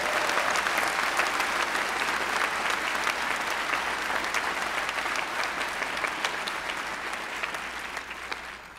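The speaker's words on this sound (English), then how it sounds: "So I think they deserve a thundering ovation." A large crowd at a university economics undergraduate commencement ceremony gives sustained, loud applause lasting several seconds, dense and even, easing slightly toward the end.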